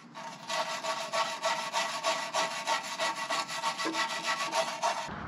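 A part on a Ford SVT Raptor pickup is scraped and brushed clean with rapid, rhythmic back-and-forth rubbing strokes, close and alone, that stop abruptly at the end.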